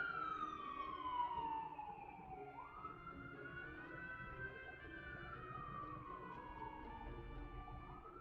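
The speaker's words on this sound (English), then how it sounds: "The number of sirens definitely decreases in the spring and the summer" An emergency vehicle siren wails outside, rising and falling in long sweeping tones, heard at a distance under a steady low background rumble.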